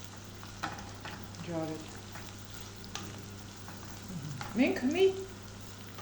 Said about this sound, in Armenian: Այս երկուսներ թող տապակվին